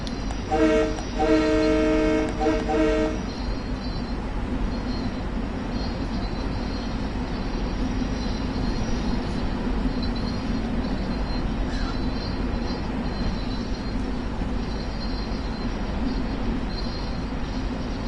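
A 12-car Long Island Rail Road train in Train Sim World sounds a chorded horn for a few seconds, then a steady loud rumble of motor and wheels continues alone.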